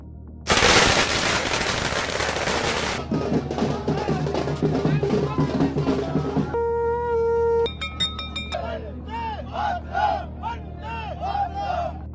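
A dense, loud crackling burst of firecrackers going off in rapid succession at an election victory celebration, followed by crowd noise, a conch horn tone and cheering voices.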